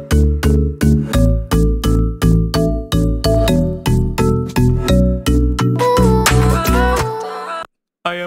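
Layered synth sound built in the Serum plugin, with a noise layer on top, playing a steady rhythmic pattern of loud, punchy repeated notes that thickens and brightens near the end, then cuts off abruptly.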